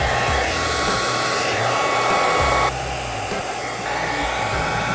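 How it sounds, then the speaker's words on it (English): A hair dryer blows steadily and loudly throughout while melting cheese, its whooshing roar shifting slightly in tone partway through as if the setting or angle changes. "We're gonna use an iron with a hairdryer"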